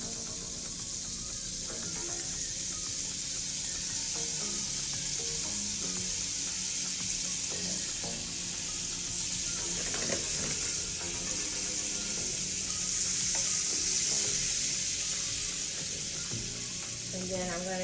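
Mixed garlic sizzles in soy-free butter in a pan, giving a steady, close crackling hiss that lasts throughout with occasional stirring clatter and a slight swell near the end.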